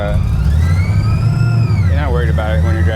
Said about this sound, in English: Man, I love driving this car.